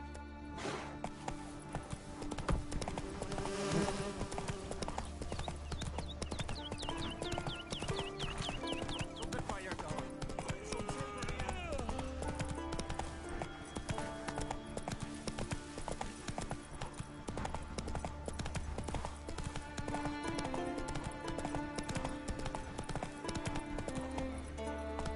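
Hooves of a horse galloping in The Witcher 3, a steady clip-clop rhythm running under a continuous bed of game music, with a brief whinny and no talk.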